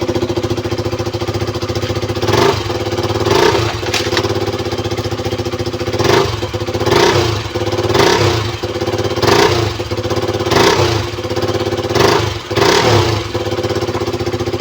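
A KTM Duke 200 motorcycle engine runs on an alternative Quantum fuel pump. It gives a loud, close, steady idle with a regular pulsing swell about every second, and no talk.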